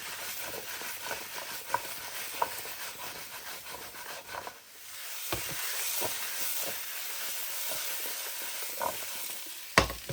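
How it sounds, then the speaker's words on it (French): Courgettes sautéing in a pan with ground coriander and a little pepper, giving a steady soft sizzle with occasional sharper clicks of stirring, fairly quiet and with no voices. "Et je fais sauter donc mes courgettes."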